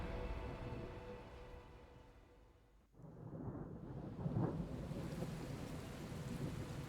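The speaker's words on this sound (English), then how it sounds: "Definitely got some rain here." Rain and thunder in the tactical roguelite game Othercide: steady rainfall hiss with a deep rumbling thunder roll, a brief dip into near-silence, then rain returning loud and dense with a swelling rumble.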